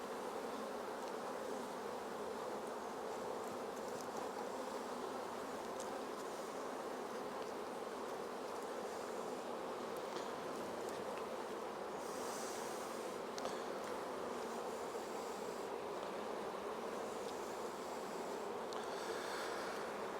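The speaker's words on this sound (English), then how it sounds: "a little bit of smoke across the top just to drive the bees off" A constant, even hum of many honeybees swarming at an open hive being smoked, unbroken for the whole stretch with no talking.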